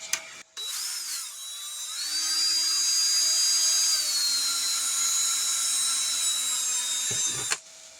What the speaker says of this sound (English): I want to take a drill so I can relieve it